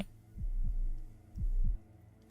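A deep, heavy heartbeat from the Roblox video game thumps in two double beats, lub-dub pairs separated by a short pause over a low hum.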